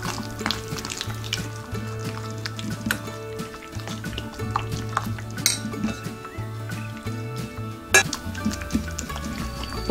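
Rava paniyaram batter gets stirred with a little water in a bowl, a spoon clinking and scraping against the sides in quick, irregular strokes with soft wet mixing sounds, close and fairly quiet.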